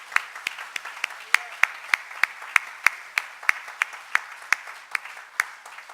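Scattered church congregation clapping during a Sunday service, with sharp, distinct claps in a loose rhythm, fairly close, over a low murmur of the room.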